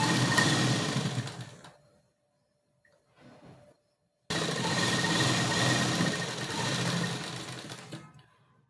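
A sewing machine stitches a double-folded sleeve hem in steady, loud runs, stopping briefly before starting again and running for several more seconds, with no talking.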